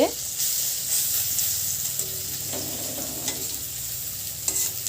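Food frying in a pan, a steady sizzling hiss with occasional sharper spits and crackles, close and moderately loud, no speech over it.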